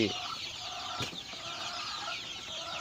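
Six-week-old Hy-Line Brown laying hens cluck continuously in a busy flock, close by, with overlapping calls and a brief sharp knock partway through.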